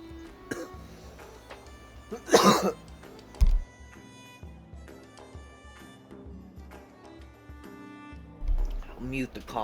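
A few loud, harsh coughs burst out, spaced apart, with quieter throat noises and faint indoor background between them.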